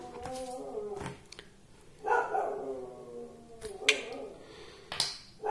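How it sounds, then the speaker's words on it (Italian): A guard dog barks in a few sharp bursts close by, with short pauses between them and clicking noises in between. "Sentite il mio cane che fa la guardia."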